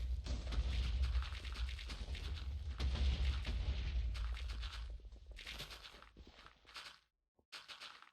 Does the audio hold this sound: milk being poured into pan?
no